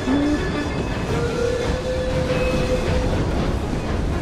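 A train in Assassin's Creed Syndicate runs along with a continuous rumbling rattle of wheels on track and occasional thin squealing tones, loud and steady throughout.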